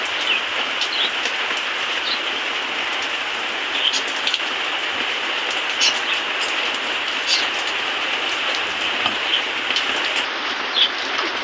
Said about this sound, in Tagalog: Maulan ngayon na gabi mga katowels.